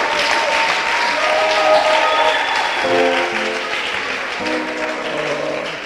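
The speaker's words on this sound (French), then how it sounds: "Acclamons le Seigneur." Church congregation at an evening worship service applauding together, a dense, sustained clapping that swells and then eases slightly, with a few faint voices and tones mixed in.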